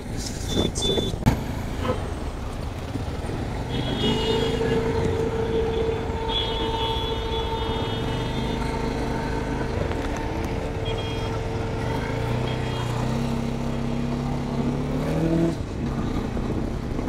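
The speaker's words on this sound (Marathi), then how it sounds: "म्हणजे एकदम भरलेलं ट्रॅफिक आहे म्हणजे." Dense, jammed road traffic around Pune during a group ride: a continuous engine drone of cars and trucks close by, with sustained horn tones rising above it.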